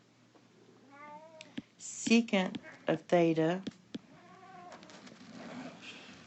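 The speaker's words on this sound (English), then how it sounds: "you can hear my cats in the background." Several cats meow repeatedly in the background of a home, their drawn-out wavering cries rising and falling, some overlapping into caterwauls, while a person speaks calmly nearby.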